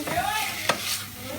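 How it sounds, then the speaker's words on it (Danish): Chicken frying in a pan in a home kitchen gives a steady, close sizzle, with a couple of brief clinks and stirring scrapes and no talking. "Vi er i gang med at stege kyllingen"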